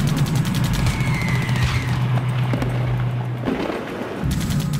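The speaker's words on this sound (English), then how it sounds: "So then you start getting hit by RPG and small arms fire." Heavy gunfire in an insurgent ambush on British soldiers, with RPG and small arms fire: dense, loud rattling bursts over a rumbling background, continuous throughout without speech.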